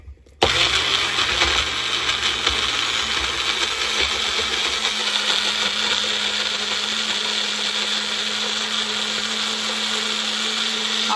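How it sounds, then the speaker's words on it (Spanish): A food processor whirs into life and grinds bananas, a loud, steady motor roar with rattling blades that holds for about ten seconds. "Aproximadamente un minuto moliéndolo para que muela bastante bien."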